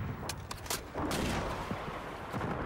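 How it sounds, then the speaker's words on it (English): A 300 Blackout submachine gun in Helldivers 2 fires in quick, sharp cracks and short bursts over a dense, noisy battle backdrop, fairly loud and irregular. "let me use my this 300 blackout submachine gun class I set up"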